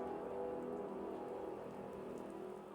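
Rain falls steadily in the video game Fallout 4, a soft, even patter on surfaces that stays constant and fairly quiet across the short stretch, with no voices heard.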